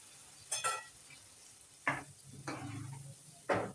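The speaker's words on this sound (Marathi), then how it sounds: "आता घालते मी शिजवलेले काबुली चणे." Cooked kabuli chickpeas drop into a pan of hot spices, producing short bursts of sizzling and stirring scrapes at intervals, close and fairly quiet, with no talk.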